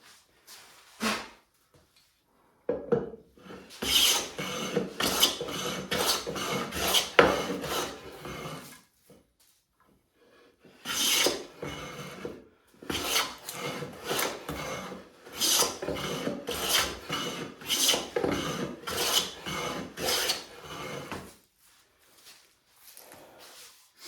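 Hand plane fitted with an indexable carbide blade shaving wood, giving rhythmic rasping strokes in two long runs of repeated close passes, separated by a pause, with no speech.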